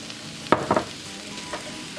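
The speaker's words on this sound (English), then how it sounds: "and stir it" A spoon stirring termite mushroom soup in a cooking pot, giving a couple of short scraping, sizzling strokes close up, then a fainter stir against a low simmering background.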